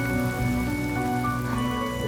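Steady rain falls in Honkai: Star Rail, a continuous even patter at moderate level throughout with a soft hum of game ambience beneath and no talk.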